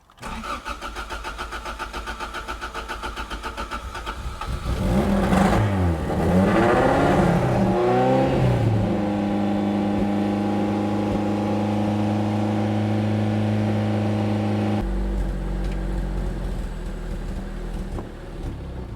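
A Toyota MR2 that was wrecked in an accident cranks for a few seconds, catches, and revs hard before settling into a steady, loud idle that drops slightly near the end.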